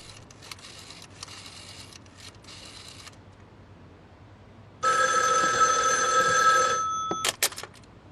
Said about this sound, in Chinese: 我得赶紧给李司令打电话。